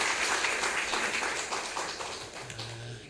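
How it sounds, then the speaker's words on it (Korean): A forum audience applauds, steady dense clapping from a crowd filling the hall at moderate level, fading slightly toward the end. "큰 박수 부탁드리겠습니다."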